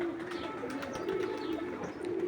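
Pigeons near their cage give a steady, low murmur of cooing close by, a brief continuous wash with no talk over it.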